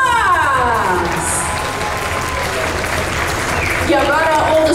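Clapping from the audience at a cosplay parade at an anime convention, with cheers and excited voices rising over it. The crowd stays lively and loud throughout.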